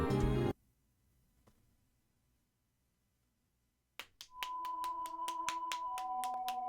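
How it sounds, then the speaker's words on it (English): Applause in the video game Robotics;Notes Elite: a burst of sharp, evenly spaced hand claps rings out clearly after a long quiet gap, with a tonal music cue rising beneath them. "The clear sound of applause echoes across the dark runway."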